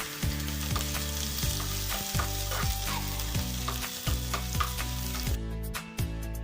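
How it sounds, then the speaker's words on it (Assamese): Onions frying in hot mustard oil in a wok, a steady, close, loud sizzle that continues throughout with no talking. "পিঁয়াজখিনি দি দিছোঁ আৰু এইখিনি ৰঙচুৱা হোৱালৈকে ভাজি ল'ম"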